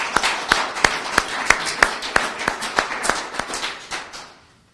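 An audience at an Adoption Awareness Month presentation claps in a steady, even rhythm of about a dozen distinct, fairly loud claps that fade out at the end, with no talking.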